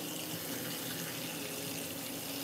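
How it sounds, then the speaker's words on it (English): Hot water poured out of a cooking pot while making spaghetti and corn on the cob, a steady continuous rushing splash at close range with no pauses. "Gonna pour a little bit of this water out."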